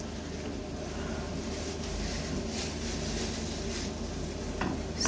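Cubed potatoes, carrots, onion, tomato paste and spices frying in a pot while being stirred, a continuous close sizzle with soft scraping and shuffling as the mix is turned.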